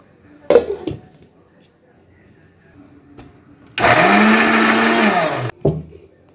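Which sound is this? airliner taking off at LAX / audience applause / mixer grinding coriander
mixer grinding coriander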